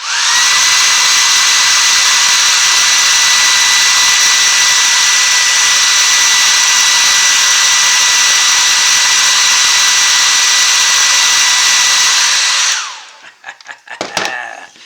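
A hair dryer blows steadily and loudly for about twelve seconds, drying paint on a carved caricature cowboy bottle stopper, then cuts off, leaving a few faint handling clicks.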